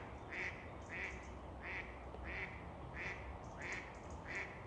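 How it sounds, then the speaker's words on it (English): A duck quacks in a steady series of about eight evenly spaced calls, moderately close and clear over a soft background hiss. "The quacking."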